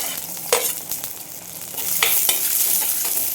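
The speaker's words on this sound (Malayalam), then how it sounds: "ഒരു പത്തിരുപത് ചെറിയ ഉള്ളി ചെറുതായിട്ട് അരിഞ്ഞതും ഒരു മൂന്ന് പച്ചമുളക് ഇട്ട് അത് ഇട്ട് കൊടുക്കാം" Chopped small shallots and green chillies sizzle in hot oil in a pan, a soft steady frying hiss punctuated by a few sharp scrapes and stirs, heard close with no voices.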